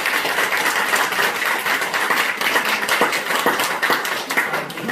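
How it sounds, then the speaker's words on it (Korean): A church congregation claps in welcome for a newly baptized member during a Sunday service, a steady close crowd of hand claps sustained throughout without talk. "우리 다 같이 우리 환영의 박수로."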